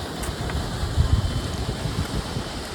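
Wind buffeting a microphone outdoors in a park, a steady low rumble of gusts that swells briefly around the middle, with no talking.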